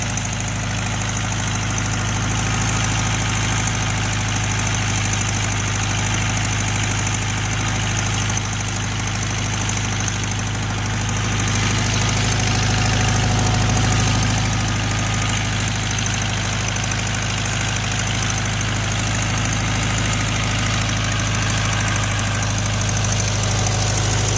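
A 1973 VW Karmann Ghia engine runs after 28 years, holding a loud, steady, throbbing idle with a low rumble and faint knocking throughout, with no voices over it.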